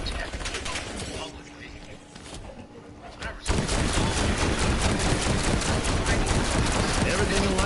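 Sentry turrets in a video game firing: dense, continuous rapid gunfire that jumps suddenly louder partway through and keeps hammering, loud and close, with game noise and a voice speaking underneath.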